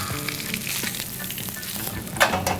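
A piece of lamb sears in a hot pan for a deep golden caramelized crust, giving a steady close sizzle with a brief louder hiss near the end.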